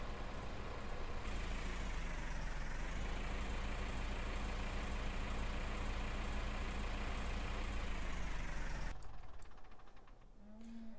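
A small Massey Ferguson tractor in Farming Simulator 15 drives steadily with a loud, continuous engine drone that holds through most of the stretch, then drops away near the end, leaving quieter low rumbling.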